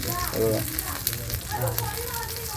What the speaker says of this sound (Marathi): मस्त असे भाजले पाहिजेत कुरकुरीत होणार एकदम जबरदस्त